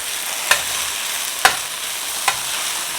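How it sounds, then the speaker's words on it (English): Okra and potatoes fry softly in a pot as the flame is turned off, a steady close sizzle broken by three sharp scraping stirs spaced about a second apart. "We'll continue to fry on residual heat."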